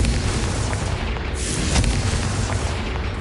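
A Confringo fire spell detonates in Hogwarts Legacy, a dense, continuous rumbling blast with a brief sharper burst near the middle, loud and sustained throughout with no talking.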